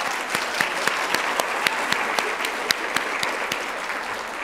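An audience at a 2019 College of Health Related Professions convocation applauds steadily, a dense continuous clatter of many hands with no break throughout.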